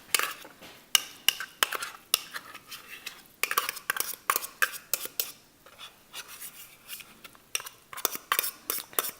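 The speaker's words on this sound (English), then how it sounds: "we are going to put the tuna in a bowl" Metal utensil scraping and tapping tuna into a bowl, a close, irregular series of clinks and rasping scrapes with short pauses between strokes.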